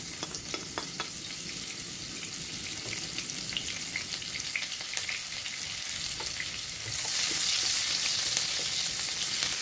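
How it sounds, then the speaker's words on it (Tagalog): Onions fry in hot oil for lomi with a continuous crackling sizzle that swells louder and brighter partway through, close and uninterrupted by talk. "At ilagay muna natin yung sibuyas."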